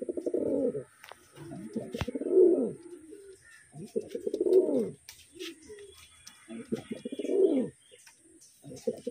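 Pigeons coo close by in low, throaty, rolling phrases, three or four drawn-out calls with short pauses between them, and faint chirps sound in the background.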